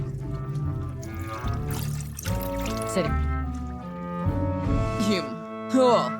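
A drink poured into a cup while making a cocktail: a gurgling, trickling stream with shifting tone, heard in bursts alongside clinking and music-like tones, with a voice talking over it.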